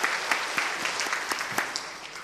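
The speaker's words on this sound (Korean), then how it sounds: "우리 영광의 박수 올려드리겠습니다." A church congregation at a Wednesday worship service applauds briefly, with dense, even clapping and a loose rhythmic pulse running through it.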